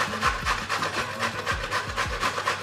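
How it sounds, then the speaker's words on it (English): Zucchini scraped back and forth against a kitchen grater for protein brownies, giving a steady rhythm of rasping strokes, close and clear, with no talking. "Grate these zucchinis,"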